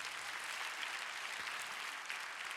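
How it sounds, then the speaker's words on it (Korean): Sustained applause from a congregation at a Korean church prayer-meeting launch ceremony, a dense, even wash of many hands clapping with no gaps, fairly quiet and distant throughout. "큰 박수 부탁드리겠습니다"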